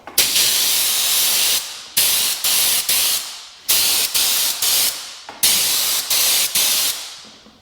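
Bursts of hissing spray from a $100 Woolwax Pro undercoating sprayer, loud and close, firing in repeated trigger pulls of roughly a second each with short gaps between them.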